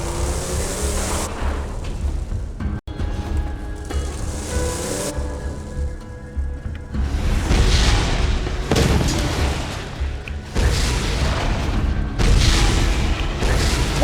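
Vehicle-mounted rockets explode repeatedly in Borderlands 2, deep booming blasts arriving in several bursts with rumbling tails and brief gaps between them, loud and close.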